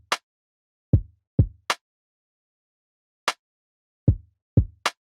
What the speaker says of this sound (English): With the kick and snare, it sounds like this.